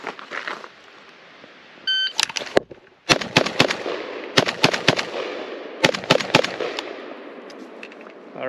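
Palmetto GF5 AK rifle fired at a shooting range with iron sights, a string of loud sharp shots in quick bursts of two or three, a timer beep before them and ringing echo between.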